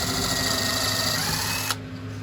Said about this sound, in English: We are drilling these pilot holes.